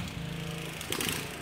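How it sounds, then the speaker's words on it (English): A Troy-Bilt riding lawn mower cuts grass nearby, its steady engine drone holding at a moderate level throughout with a brief rougher surge near the end. "they have a Troy built riding lawnmower, so it's a little bit loud."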